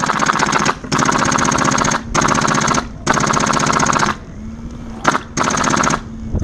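An airsoft light machine gun fires during an outdoor airsoft game, loud close rapid-fire bursts of clattering shots, about five bursts separated by short pauses, with no talking.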